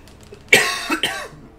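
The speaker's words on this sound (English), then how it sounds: "Coughing fit." A person has a short coughing fit while playing the OMSI 2 bus simulator: a couple of harsh, close coughs in quick succession, loud against near silence.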